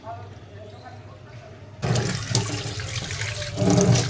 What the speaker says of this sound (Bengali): চলো মাছটা ভালো করে আগে ধুয়ে টুয়ে নিই।